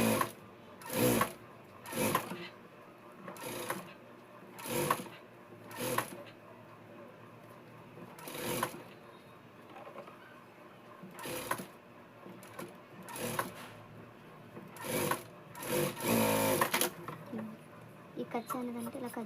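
Sewing machine stitching around the neck of a Punjabi dress, running in short repeated bursts with pauses between, while someone talks over it throughout.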